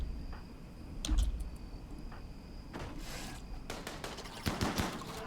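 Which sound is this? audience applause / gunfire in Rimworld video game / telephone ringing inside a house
gunfire in Rimworld video game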